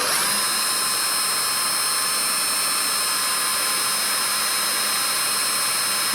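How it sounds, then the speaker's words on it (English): A power drill runs at a steady high-pitched whine while boring holes in a plastic dust hood for a Grizzly G0815, loud and close, holding one unbroken tone throughout. "let's drill the other 3 now"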